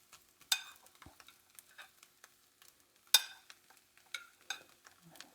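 Pineapple chunks and juice tumble into a hot pan for Thai pineapple fried rice, giving scattered scraping stirs and brief sizzling bursts, with two louder clattering hits standing out against quiet gaps.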